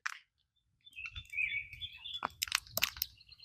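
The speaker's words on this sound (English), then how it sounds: "now I can hear the birds chirping again" Birds chirp outdoors in short, bright calls and a brief warbling phrase, fairly close and faint, with a soft low rustle beneath.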